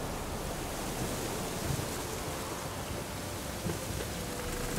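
Steady heavy rain from a storm in The Witcher 3, a dense continuous hiss of downpour with faint low rumbles, no talk.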